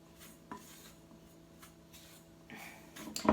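Dry sultanas being tossed through flour in a mixing bowl for rock buns, giving soft scraping and light clinks of a utensil against the bowl, sparse at first and busier toward the end, close and quiet.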